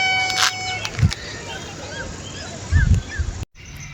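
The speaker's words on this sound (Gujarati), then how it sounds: "તો ડોગ આવી ગયો આપણે" A dog gives a few short barks and yips near a cabin on a foggy morning, brief bursts separated by quieter stretches with faint chirping in the background.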